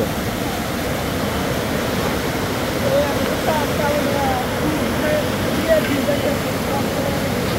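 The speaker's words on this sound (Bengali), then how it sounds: "পানির কি শব্দ!" Floodwater roars through the Bhuapur sluice gate in a steady, dense broadband rush, loud and continuous with no let-up, while a voice speaks faintly over the churning flow.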